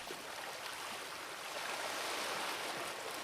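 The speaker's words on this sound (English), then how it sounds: "Tiny waves rolled in," Small waves roll in at a beach with shallow coral-rock ponds, giving a steady, close wash of water with no pauses or other sounds.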